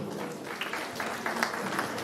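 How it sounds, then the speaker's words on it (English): Applause from a crowd at a law school graduation ceremony, a dense patter of clapping hands filling the space, fairly loud and steady throughout. "Please, a round of applause."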